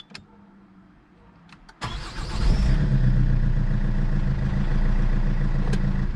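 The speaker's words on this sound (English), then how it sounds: "I'm gonna test the starter." Peugeot 407 2.0 HDI diesel cranking on a rebuilt starter, with a few faint clicks before the engine catches abruptly and settles into a loud, steady idle.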